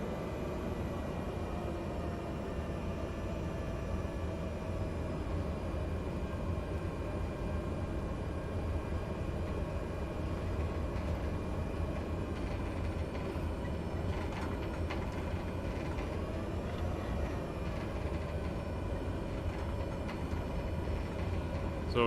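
Steady, constant engine drone of a Cessna rolling down the runway on its takeoff run in Microsoft Flight Simulator 2020, an even, unbroken hum with no clear change in pitch throughout.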